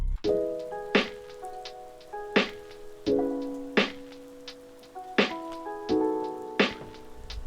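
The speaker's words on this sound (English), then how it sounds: "I'll make the snare hit on every 8th step. The snare doesn't have that much high end either" A slow, mellow beat with a crunchy, dull snare cracking at regular intervals over warm sustained chords, quiet and lo-fi in texture.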